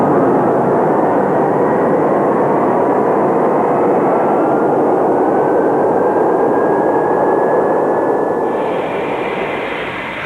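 Lockheed C-141 Starlifter jet engines roar loud and close in a steady, broadband rush with a rising whine, continuous throughout and fading slightly at the end.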